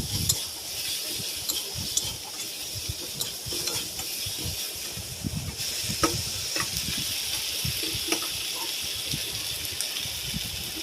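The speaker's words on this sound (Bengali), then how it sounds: "1 চামচ আদা বাটা দিয়ে আবার নাড়াচাড়া করে নেব।" Shrimp frying with ginger paste in a pan, with a steady sizzle and repeated scraping stirs of a spoon close up, no talking.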